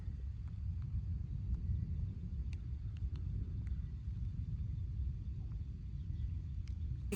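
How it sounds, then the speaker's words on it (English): Distant thunder rolls as a continuous low rumble on a sprinkling June day outdoors under dark clouds, faint and steady, with wind buffeting the microphone and no talking. "I don't know if you can hear the thunder rolling"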